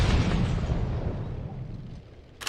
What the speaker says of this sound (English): Mortars! 3 crews!